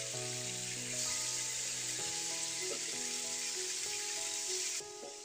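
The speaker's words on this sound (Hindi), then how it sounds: "पैन में आधा कप ऑयल को गर्म करने के बाद जो चिकन हमने मैरिनेट किया था उसे इसमें फ्राई कर लूँगी।" Marinated chicken pieces frying in half a cup of hot oil in a pan, giving a steady, close, full sizzle that continues without pause, with faint pops and the gentle scrape of a moving piece.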